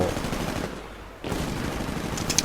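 Gunfire in the video game Titanfall as minions are shot: loud rapid automatic bursts, a short lull in the middle, then firing resumes with a few sharp high clicks.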